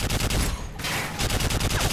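Rapid automatic gunfire in the Call of Duty Modern Warfare 3 video game, loud repeated bursts of shots aimed at an enemy technical vehicle, with a brief pause mid-volley before firing resumes.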